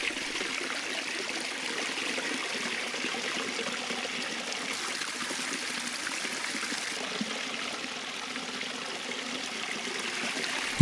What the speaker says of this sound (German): Die Staustufen laufen sehr gut. Der Wasserkreislauf scheint sehr gut zu funktionieren.